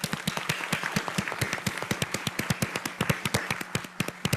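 Audience applause for a panel of speakers at a science conference session: a steady run of sharp, close claps, dense and rhythmic for several seconds with no voices over it.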